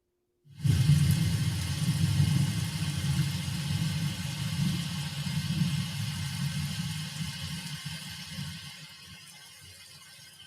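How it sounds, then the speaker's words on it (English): A recorded thunder sound effect of a Texas-style thunderstorm plays loudly: a deep, sustained rolling rumble that starts abruptly and continues steadily for about ten seconds, slowly easing toward the end, with no talking. "Yeah, I do have lightning and thunder. Like Texas lightning and thunder."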